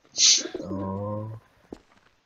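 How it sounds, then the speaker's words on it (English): A single soft bird coo in a Garry's Mod game, a low hooting call from a dove or pigeon, heard clearly after a brief high-pitched noise, with a faint click afterward. "Do I hear birds?"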